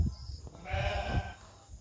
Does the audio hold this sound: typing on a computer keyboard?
no